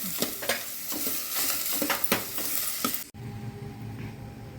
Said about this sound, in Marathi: आता हे चांगलं परतून घेऊ.